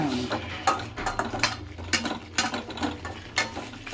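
Fish curry (chepala pulusu) stirred in a pot with a spoon, giving repeated scraping, clinking knocks against the metal at an irregular rhythm over a low steady background hum.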